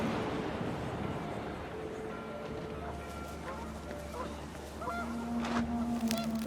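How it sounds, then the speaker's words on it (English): Panicked geese honk repeatedly in the What Remains of Edith Finch game, a loud, busy flock of overlapping calls, with wind noise and some movement sounds underneath. "panicked geese appeared and quickly went"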